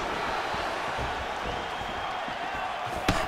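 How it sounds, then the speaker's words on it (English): Crowd noise from the EA Sports UFC 5 video game, during a fight, fills the background as a steady, muffled roar with a brief thump near the end. "you hear that crowd reaction every time he gets battered to the body"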